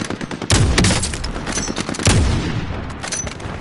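Gunfire in Call of Duty Modern Warfare cracks close and loud, two heavy bursts of rapid automatic shots with punchy low booms, separated by brief rattling fire.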